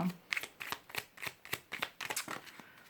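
Tarot cards shuffled and drawn by hand, a close run of quick papery flicks and slaps in an irregular rhythm, alone without talk.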